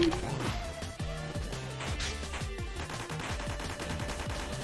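Rapid shooting from the platform game Spark the Electric Jester, a quick run of small repeated shots layered into busy, steady game music and effects. No one speaks.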